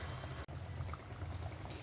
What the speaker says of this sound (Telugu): నేనైతే ఒక 2 గ్లాసుల వాటర్ వేస్తున్నాను, పడతాయి.